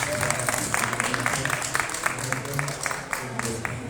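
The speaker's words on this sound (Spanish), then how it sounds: "Por favor, un fuerte aplauso." Audience applause for a speaker being introduced before a closing philosophy lecture at a university event, dense steady clapping at moderate volume filling the whole stretch.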